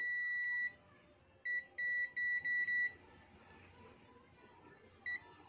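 Sharp electronic beeps from a digital multimeter continuity test on wires, a single tone then a quick burst of several short ones, later one more, over faint background rustle.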